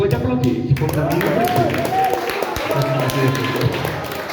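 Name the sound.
congregation applauding in church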